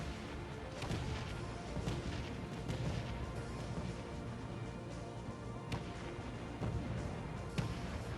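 Missiles striking a large reactor in Space Engineers, a dense, continuous rumble of booming impacts and crashing blasts with sharper hits near the start and toward the end, loud and sustained throughout.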